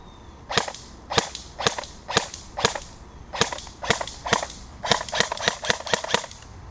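A G&P MK12 airsoft rifle firing outdoors in a short-range accuracy test, giving a string of sharp, snappy shots, first spaced and single, then quicker bursts close together, loud and near with no talking.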